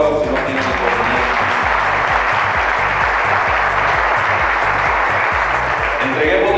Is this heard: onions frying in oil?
no